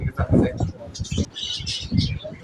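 Lutino budgerigars chirping and chattering in a crowded bird shop, bright twittering calls close by, mixed with other birds' coos and a person talking over them.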